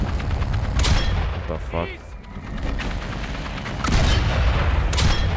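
Cannon fire in the World War I video game Valiant Hearts: The Great War, heavy booming blasts with battle noise throughout, a player talking over the din.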